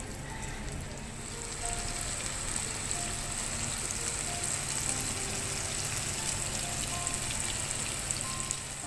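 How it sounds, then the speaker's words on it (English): Rava-crusted seer fish (surmai) pieces fry in hot oil with a steady, fairly quiet sizzle and hiss that runs without a break and swells a little after the first second. "So let us fry the surmai rava fry."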